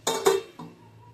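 A metal lid set onto a cooking pot of boiling vegetable biryani: two quick, bright clanks close together, then a softer third knock that rings away into quiet.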